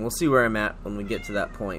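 A domestic cat meows several times close by, drawn-out wavering cries repeating in a rhythm, heard under someone speaking.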